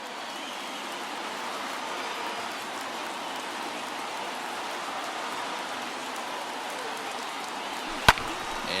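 A large stadium crowd of about 39,000 roars steadily as a distant, even wash of cheering in MLB The Show 21 baseball, with one sharp knock near the end.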